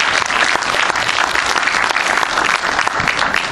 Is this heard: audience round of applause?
yes